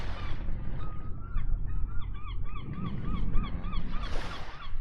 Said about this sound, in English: added a seagull to the sound effects